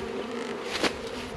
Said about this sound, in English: The bees are going to swarm for probably another hour until I go away and they calm down.